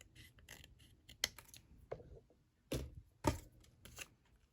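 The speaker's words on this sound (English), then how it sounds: "I'm just gonna cut off that little sliver" Scissors or a paper trimmer clip a thin sliver of paper for a hexagon-shaped mini album, giving a few short, crisp snips and paper rustles scattered across a quiet, close-up stretch.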